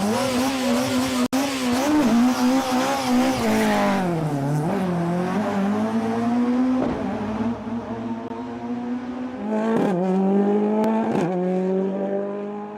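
Rally cars with 2.4-litre engines on a West Cork Rally stage roar past, their engine notes climbing and dropping through gear changes and revs, loud and close, with one car following another.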